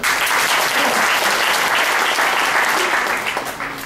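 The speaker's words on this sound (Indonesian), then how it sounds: "Tepuk tangan dulu ada." Audience applause at a motivational talk on raising spirit and effort, steady dense clapping from a large crowd filling the room, holding loud throughout before easing slightly at the end.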